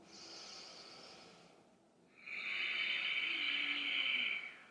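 Breathing during a yoga hip stretch: a soft, airy breath, a brief pause, then a longer and louder steady breath, close and quiet, with no talking.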